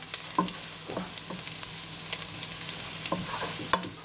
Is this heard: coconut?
yes